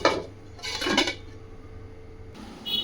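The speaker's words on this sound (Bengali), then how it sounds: "এটা এবার আমি ঢেকে দেব।" A metal lid set down on a pot of fish curry, tengra fish with drumsticks and green chillies: a few clattering metallic clinks near the start and again around the middle, then a quiet stretch and a light clink at the end.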